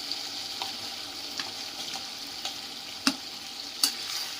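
Fried potatoes being sautéed in spiced masala for shol fish kalia: a steady close sizzle of oil with soft stirring scrapes and a couple of sharper spatula knocks against the pan, no voices.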